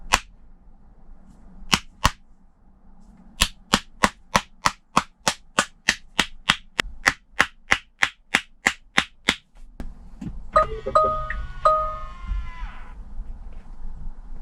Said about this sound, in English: So we're going to clap in here.